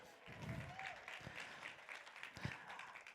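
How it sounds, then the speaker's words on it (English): Audience applause fills a keynote marketing event hall, a steady wash of many hands clapping at moderate distance with a few sharper claps, running throughout. "A round of applause just for that."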